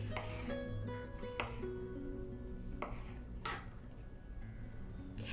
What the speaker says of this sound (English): So I just like to remove those while I'm chopping my tomatoes.